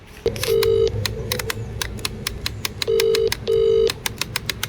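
An outgoing phone call rings unanswered: a steady ringback tone sounds in paired bursts, one near the start and two more later, under constant background clicking and room noise.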